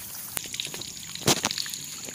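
Water runs from a tap through a pipe into a plant pot in a guava garden, a steady soft trickle with small splashes and drips, one louder splash partway through.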